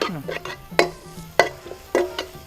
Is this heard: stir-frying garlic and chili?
yes